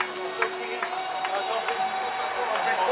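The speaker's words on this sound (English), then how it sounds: "Rapturous applause for the Ospreys." A rugby stadium crowd roars and applauds the Ospreys before a match against the Scarlets, a distant, steady wash of cheering and clapping with scattered louder shouts.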